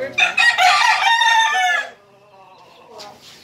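A rooster crows loudly and close, one long drawn-out call, bought cheaply along with two others, followed by quieter clucking and faint rustling.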